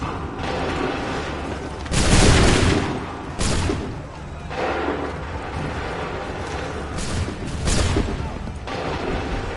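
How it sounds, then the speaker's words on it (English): Musket volleys ring out on a battlefield in Assassin's Creed 3 Remastered, several loud broadband bursts spaced a second or two apart over a constant din of battle. "Open fire."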